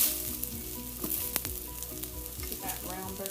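Vegan oat burger patties sizzle steadily in a frying pan, a continuous crackling fry with a few sharper pops and light scraping as they are flipped and pressed, close and clear with no talking.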